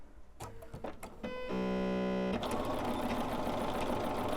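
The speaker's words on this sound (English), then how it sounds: "I'm going to start at the bottom, and make sure you back stitch at the beginning and end of your stitching." A sewing machine stitching the edge of a cross stitch pillow: a few short starting clicks, then a steady close mechanical whir that runs on under a loud, dense background wash, with no one speaking.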